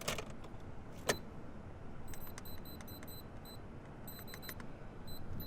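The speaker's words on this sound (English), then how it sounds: "also that turbo timer, which I just turned it on and off real quick" A turbo timer being switched on and off inside a Nissan Silvia S15, a few clicks followed by rapid clusters of faint, high electronic beeps against a low cabin hum.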